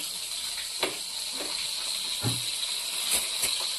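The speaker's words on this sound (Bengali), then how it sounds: "এদিকে মাছ ভাজা চলছে আমাদের।" Fish frying in a pan, a steady broad hiss and sizzle of hot oil with a few sharp pops and spatters, fairly close and without talk.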